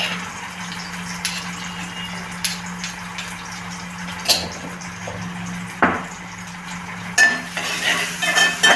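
Onion, green chili and ginger-garlic paste frying in a pan for misal, a soft continuous sizzle with occasional stirring scrapes and utensil knocks, close and moderate in level.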